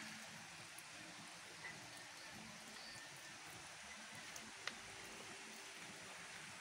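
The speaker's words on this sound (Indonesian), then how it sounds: "Masih siang ini, setengah 12 tapi sudah hujan ya." Steady, soft midday rain in Puraseda village, Indonesia, hisses evenly throughout, with a few faint drips and ticks standing out against the wash.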